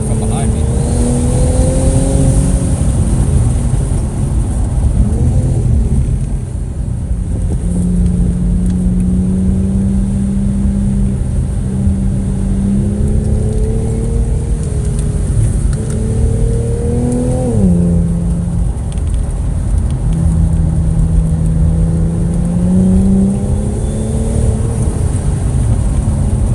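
A car accelerating hard somewhere behind a Infiniti Q50, its engine rising and falling in pitch with a turbo spooling up, loud and continuous, with tire noise and a steady road roar underneath.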